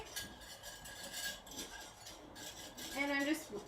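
A whisk clinks against a metal pot while stirring cream puff filling infused with vanilla bean, producing quick, close scraping and tinkling strokes at moderate volume with no talking.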